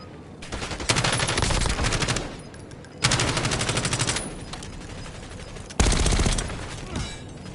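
Call of Duty: Warzone gunfire striking the player: three loud bursts of rapid automatic fire, each roughly a second long, separated by short gaps, with no voices over them.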